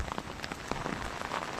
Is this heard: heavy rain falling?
yes